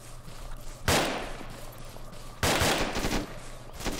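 Two loud, sharp gunshot blasts about a second and a half apart ring out in a military video game, each trailing off over a low, steady background hum.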